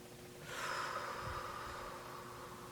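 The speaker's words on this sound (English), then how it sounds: "Nice long exhales" A slow, deep breath out through the nose during a guided meditation, a soft breathy rush swelling and then trailing off gently, close and quiet.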